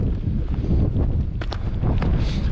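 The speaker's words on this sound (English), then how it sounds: "It's getting windy" Wind gusting and buffeting a microphone outdoors while hunting in New Zealand, a steady low rumble with a few brief brighter bursts, no talking.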